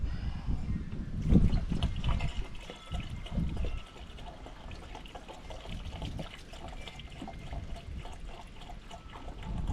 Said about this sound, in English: We'll just add a little water to it.